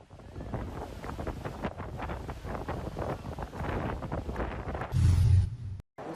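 Strong wind gusting over open sea where a search for missing people is under way, a steady broadband roar buffeting the microphone throughout, with a heavier low gust near the end before a brief dropout.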